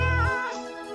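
A wild cat in a cartoon story gives one short, loud, close meow that slides in pitch and fades quickly.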